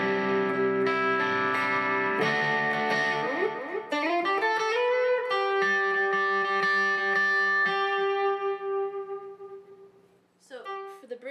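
A guitar plays a riff of chords that slide upward in pitch, notes ringing and sustaining, ending with a brief scrape.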